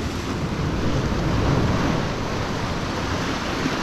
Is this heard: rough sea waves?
yes